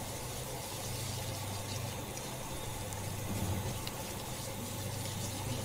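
Milk being poured into a flour roux in a pan for garlic bread sauce, a steady soft liquid stream and gentle sizzle, close and continuous with no talking.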